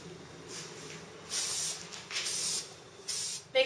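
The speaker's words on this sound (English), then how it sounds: "or you can use a spray like K&N air filter oil" Short bursts of K&N air filter oil sprayed onto a Vespa scooter air filter, several hissing pulses of varying length, close and fairly quiet, with no talking.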